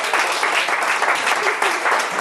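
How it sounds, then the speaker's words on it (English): Comedy club audience in the Bronx claps steadily, a brief dense burst of applause heard up close with no talking. "Clap it up for everybody, all the talent."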